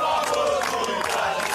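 Football supporters at a stadium shout and chant together in a loud, dense crowd roar that stays close and constant through the brief moment.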